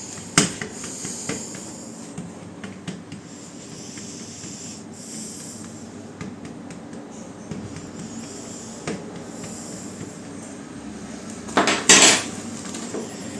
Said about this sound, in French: je vais piquer le fond avec une fourchette